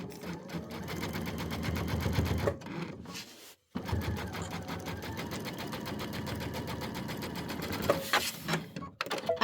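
A home embroidery sewing machine stitches in the ditch on a Christmas project, running as a rapid, steady rhythmic chatter close by, briefly pausing twice before resuming at the same pace.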